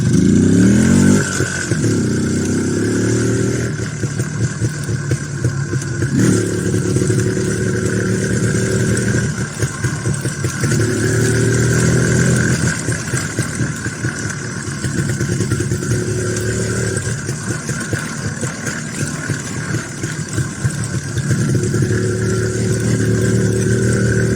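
An IZh Planeta 5 enduro motorcycle rides home along a field beside a forest strip, its engine droning steadily close by with repeated rises and falls in revs and no talk.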